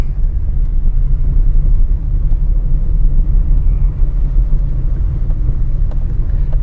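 Car engine pulling in second gear at low speed, a steady loud low rumble with a slight rough drone throughout, no voices.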